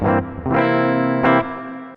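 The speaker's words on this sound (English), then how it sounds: "That's just the sound of the pickups." Hollow body electric guitar with humbucker pickups in the treble position, played straight in with light reverb: a few bright, sustained chords strummed in sequence, loud and close, with no talking.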